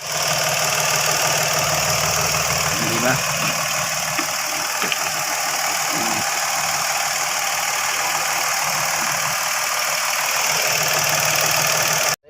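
An idling Mitsubishi Mirage engine with a starting fault runs steadily and close by, a continuous low rumble with a light mechanical knock, with no other sounds.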